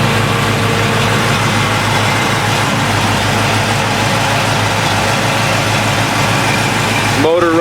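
A 1969 Chevrolet Chevelle SS V8 with a performance cam, headers and dual exhaust idles with a steady, loud, low lopey rumble close by, and a brief extra burst of sound right at the end.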